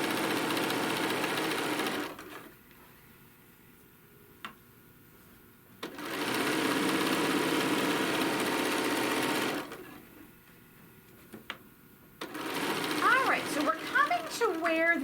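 Sewing machine stitching a quilted tote bag panel along a quarter-inch edge, two long steady runs of motor whir separated by quiet pauses, with a brief start at the end.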